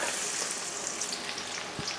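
Onions hitting hot oil in a pan sizzle steadily and close up, a dense, even frying hiss that runs the whole time with no talking.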